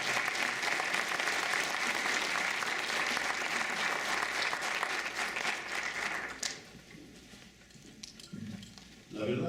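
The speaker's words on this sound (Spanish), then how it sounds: "pido por favor un fuerte aplauso para recibirlo" Loud, sustained applause from an audience at a congressional forum on the secular state fills the room, then thins out and fades, with a voice beginning to speak near the end.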